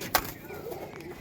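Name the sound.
Punjabi malwahi pigeons cooing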